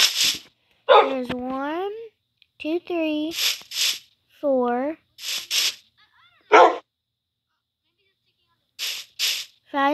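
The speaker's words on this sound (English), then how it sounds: "Wait, did I hear a bark," Minecraft dogs, a litter of puppies, give short yips and barks mixed with high whimpers in scattered bursts, loud and close, with a player talking in between.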